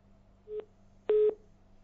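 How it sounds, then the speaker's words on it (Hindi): A telephone line on a radio phone-in call gives two short electronic tones, a brief blip and then a longer steady beep, over a faint hum as the caller drops off. "लगता है फोन डिस्कनेक्ट हो गया"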